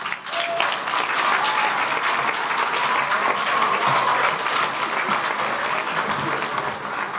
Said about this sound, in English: Give a round of applause for Glinda.